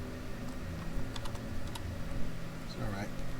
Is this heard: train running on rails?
no